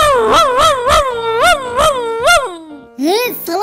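A dog in the Minecraft video game whines and howls in a run of rising and falling wavering cries, loud and close, then a final higher yelp.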